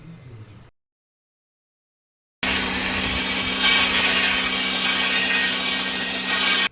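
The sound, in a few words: pressure washer sandblaster blasting valve covers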